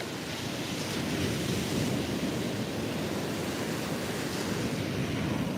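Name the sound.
wind blowing into the microphone on an outdoor walk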